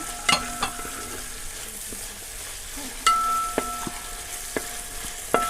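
Chopped green chillies frying with sliced onions in a pan for Wayanad-style kappa biryani, a steady soft sizzle broken by sharp clinks and scrapes of a spoon stirring against the pan.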